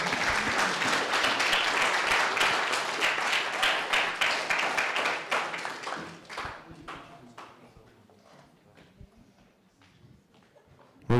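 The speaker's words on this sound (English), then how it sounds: "Can we give another round of applause?" A symposium audience gives a round of applause, loud dense clapping that thins into scattered claps and fades over several seconds to near quiet.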